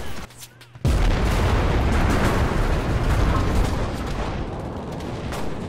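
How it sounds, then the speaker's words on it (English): A tank blows up in the WWII shooter game Enlisted: a sudden loud, deep blast that rolls straight into a long, dense rumble of battle noise and scattered gunfire lasting several seconds. "Someone's tank exploded."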